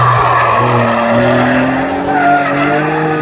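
Prototype sports car sliding sideways at the Nürburgring, a loud, sustained tire squeal layered over a revving engine whose pitch rises and falls through the slide, close and continuous.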